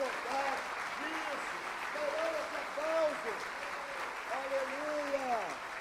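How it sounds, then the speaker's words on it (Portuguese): A church congregation applauds Jesus during a sermon, with steady, moderately distant clapping that runs throughout while a preacher's voice speaks over it. "Se quer aplaudir Jesus, aplauda direito. Aplauda com vontade."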